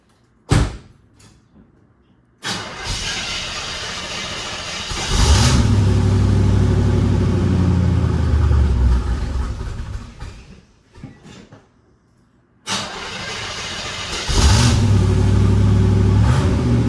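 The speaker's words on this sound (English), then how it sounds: "So cold start up, we're going to head off to work." A 1976 Corvette is cold started twice, each time with a door thump and clicks before the engine catches, settles into a steady rumbling idle and revs up with a deep roar, heard from inside the car.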